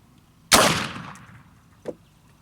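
A single rifle shot cracks out close and loud outdoors while rifles are sighted in at a range, its boom decaying over about a second, followed by a faint short knock.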